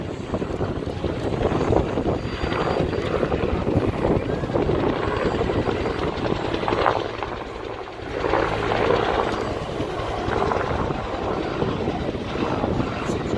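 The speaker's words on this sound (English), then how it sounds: "The sound of just one Huey is impressive enough." A UH-1 Huey helicopter's rotor thrums steadily and loudly throughout at an airshow, its broadband roar mixed with wind buffeting, briefly dipping before swelling again.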